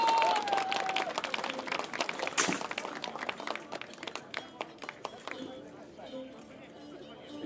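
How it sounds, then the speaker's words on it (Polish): Audience applause at a medieval knights' tournament final, Silver Belt of Grunwald, loud clapping for several seconds that gradually thins out, with a crowd murmuring and some talk throughout. "Wielkie, wielkie brawa"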